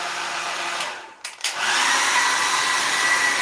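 A hair steamer runs on its high setting with a steady, loud hiss and blowing noise. The sound dips briefly near the middle with a couple of small bumps, then continues evenly.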